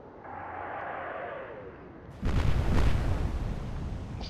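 Naval guns fire in Atlantic Fleet, a heavy booming salvo that erupts after a whistling lead-in and rumbles on for a couple of seconds.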